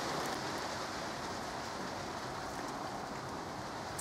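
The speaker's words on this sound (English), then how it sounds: "Hang on, it's starting to rain." Rain falls outdoors as a steady, dense hiss that stays even and fairly loud throughout, with no voices over it.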